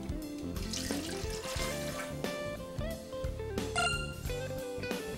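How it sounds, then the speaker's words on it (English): Water is poured into the baking pan of a Zojirushi bread machine, a steady close trickle and splash that runs continuously and faintly, with no voices. "and then pour the water in the baking pan."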